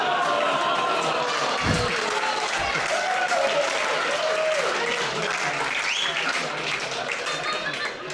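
Audience at a stand-up comedy show breaks into loud, sustained applause that fills the room for several seconds, with scattered whoops and laughter mixed in before it gradually eases off.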